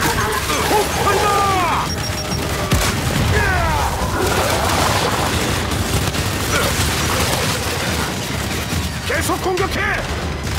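Heavy explosions and crashing impacts from combat in the video game Gears 5 boom amid mechanical clatter, under frequent shouted voices and a busy battle din.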